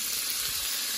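Tomato hits a pan of frying shrimp for Mexican-style shrimp with spinach, giving a steady, close sizzle of hot oil and steam that holds evenly throughout with no talking.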